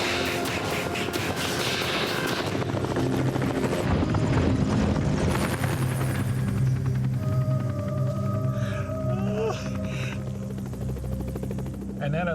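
A rescue helicopter during a hurricane thuds with a loud continuous rotor drone, heavy and close at first and easing slightly later, with a voice talking over it in places.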